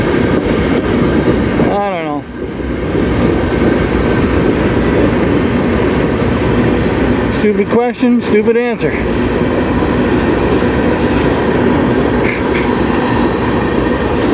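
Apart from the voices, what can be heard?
CN freight train passing on the Strathroy Subdivision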